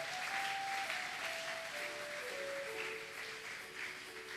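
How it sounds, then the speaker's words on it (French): A church congregation at a Sunday service applauding, a dense wash of clapping that holds steady throughout, with sustained organ or keyboard tones sounding underneath. "Acclame pour le Seigneur"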